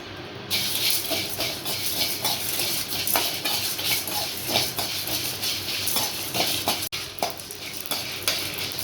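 Curry ingredients, curry leaves and coconut among them, being stirred and dry-roasted in a pan for a country chicken curry, giving a steady scraping, rattling stir with light sizzle throughout, close and fairly loud.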